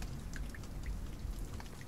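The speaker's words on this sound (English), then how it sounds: "Is it raining?" Rain patters steadily in the survival video game The Forest, a soft continuous hiss of drops on surfaces with a few brighter splashes, fairly quiet and alone.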